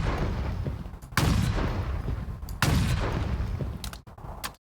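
Sniper rifle fire in Halo Infinite, with two loud, sharp shots a second or so apart followed by a couple of quicker cracks near the end over a steady game background.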